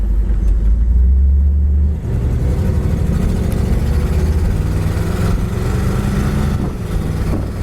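A 1962 Ford Galaxie Sunliner convertible with a 390 engine drives along the road, its V8 a loud, steady low drone with wind and road roar and small shifts in pitch, no voices.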